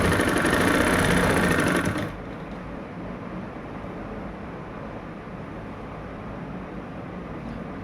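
A sewing machine stitching a curved kurti seam runs with a loud, fast mechanical whir for about two seconds, then stops, leaving a quieter low hum with soft handling noises.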